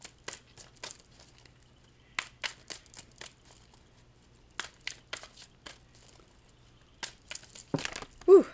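A deck of tarot cards being shuffled: bursts of crisp riffling and snapping card sounds in quick clusters separated by short pauses, close and fairly quiet, with a brief breathy sound at the end.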